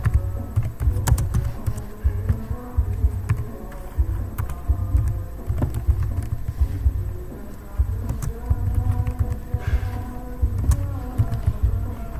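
Keys clatter in quick, uneven bursts of typing on a computer keyboard, close and steady throughout, with a low hum running underneath.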